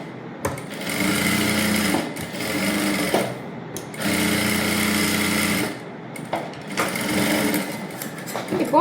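A sewing machine stitches around the lining of a princess-cut blouse in loud, close bursts of rapid needle chatter. Three long runs are separated by short pauses, with faint handling noise in the gaps.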